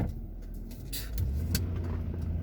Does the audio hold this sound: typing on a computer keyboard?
no